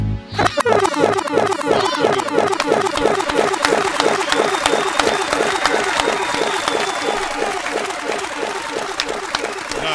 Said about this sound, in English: Keep them applause going right there